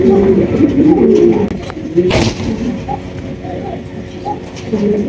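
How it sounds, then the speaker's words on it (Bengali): Mukhi pigeons cooing in soft, repeated low burbles, close by, mixed with rustling and background voices talking. "এখানে রয়েছে আপনার মনের মতো একজোড়া মুখী কবুতর।"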